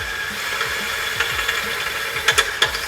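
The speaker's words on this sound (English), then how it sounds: "Because I'm drilling like this." A power drill whirs beneath a Toyota Tacoma during an underbody LED rock slider install, a steady whine with scattered knocks and rattles that grow sharper toward the end.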